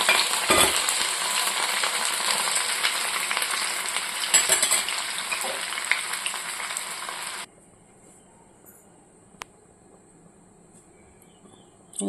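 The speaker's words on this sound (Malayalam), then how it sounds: "ഇഞ്ചിയും വെള്ളുള്ളിയും വഴറ്റുന്നുണ്ട്." Ginger and garlic sautéing in hot oil for prawn pickle, a dense close sizzle with occasional stirring knocks that cuts off abruptly partway, leaving a faint hiss and a single small clink.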